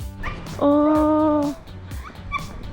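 A happy dog at island sleeping quarters in the Philippines, between El Nido and Coron, lets out one sustained, high, tonal whine close by amid other soft yips, while a person speaks briefly.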